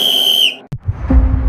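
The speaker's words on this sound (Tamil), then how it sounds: "உங்க விஜய் நான் வர விசில் அடிக்க ரெடியா?" A sharp, bright whistle rings out steadily for about half a second, then cuts off abruptly, followed by a brief pause and a low rumbling, muffled thud with noisy background.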